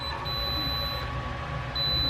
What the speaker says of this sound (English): you get a warning beep, you know, the flashing light saying, sorry, no go.